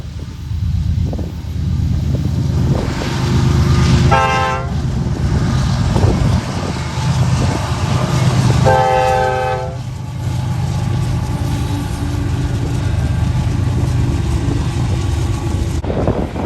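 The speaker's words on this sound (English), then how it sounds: "Then there was NS Colt train." A Norfolk Southern coal train rumbles past with a steady, loud roll of wheels and cars, and its horn sounds two distinct blasts along the way.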